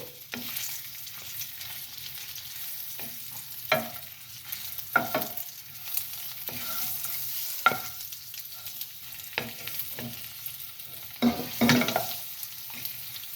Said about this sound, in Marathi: आता हे मस्तपैकी बारीक गॅसवर तळून घेत आहे.